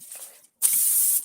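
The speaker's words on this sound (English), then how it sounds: "And hit it with brake clean one more time and let it dry for a little bit." Brake cleaner sprays onto car brake parts on a Lincoln MKS: a short faint hiss, a brief pause, then a loud, steady, close-up aerosol spray lasting about half a second.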